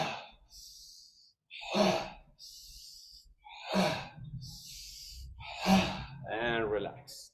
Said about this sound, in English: Okay, so exhale, inhale, exhale, inhale, exhale, inhale,